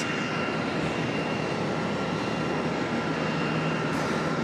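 American Airlines Boeing 737, fifteen years old, arriving from Pittsburgh and coming in to land at Charlotte, a steady distant jet roar with a faint whine, unbroken and without talk.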